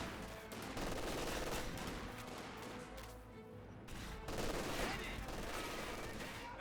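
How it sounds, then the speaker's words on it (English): Sustained LMG machine-gun bursts from a Company of Heroes 2 battle, loud and dense, with rattling fire layered over explosions and other gunfire throughout. "Only the LMG is currently firing."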